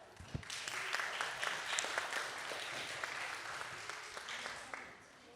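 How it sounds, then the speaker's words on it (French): Applause for a winner at a Creole dictation contest award ceremony in Réunion: a steady crowd of hands clapping throughout, moderately loud with crisp individual claps, tapering off at the end. "il faut l'accompagner par les applaudissements"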